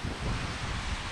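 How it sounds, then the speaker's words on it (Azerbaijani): Steady rushing water at Batareyny Waterfall where a lake's outflow pours into the sea, heard as a broad, continuous low roar close to the microphone, mixed with wind buffeting and no voices. "Bu da şəlalə."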